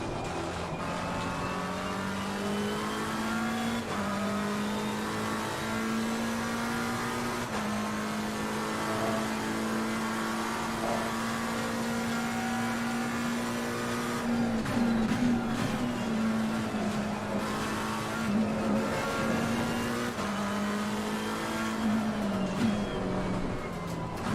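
A Porsche race car in a racing game holds a steady, droning engine note with slight pitch shifts as it accelerates and shifts, continuous and close throughout, with faint tire noise and no talking.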